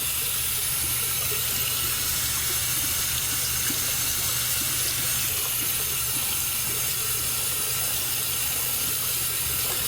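Steady hot water running from a tap to soak a shaving brush, a constant close rushing hiss with no voices or other sounds.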